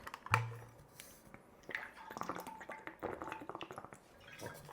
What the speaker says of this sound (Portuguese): Deixa eu tomar um gole de água primeiro.